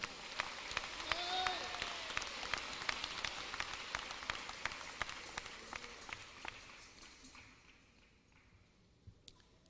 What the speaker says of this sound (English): I think they need a better round of applause.